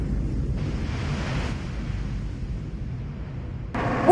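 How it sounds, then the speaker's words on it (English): Heavy rumbling blast and roar from a cluster bomb dropped by the military on a giant monster in a kaiju movie, a loud sustained low boom that continues for several seconds, with a fresh burst near the end. "The military gets the drop on Raiga, and then they drop a cluster bomb."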